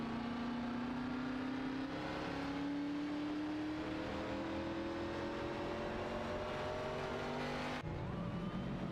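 Onboard a stock race car at Talladega during a late-race incident, the engine drones loudly with its pitch climbing steadily as it accelerates, then drops suddenly near the end as the driver lifts.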